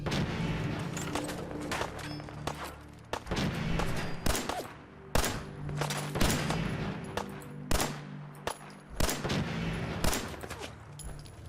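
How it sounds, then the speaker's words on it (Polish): Gunfire in the video game Fallout 4: irregular sharp shots and short bursts crack out one after another, fairly loud and close, with brief gaps between volleys. "dzisiaj mi zdecydowanie nie idzie to strzelanie"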